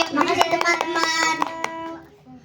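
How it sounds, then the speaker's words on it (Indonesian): An audience at a radio broadcast claps hands, brief sharp rhythmic claps mixed with voices and a sustained musical tone, fading out after about two seconds. "Tepuk tangan buat Mas Gabriel."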